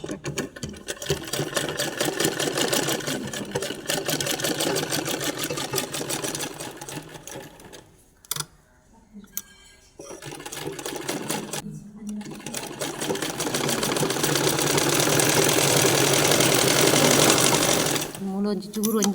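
An electric sewing machine stitching a blouse runs close and loud with a fast, steady whirring hum, stops briefly twice, then starts again, while someone talks over it.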